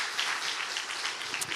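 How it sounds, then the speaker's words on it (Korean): A church congregation at a Sunday worship service claps together in a brief, dense burst of applause, bright and even with no voices. "우리 박수 한번 쳐줍시다"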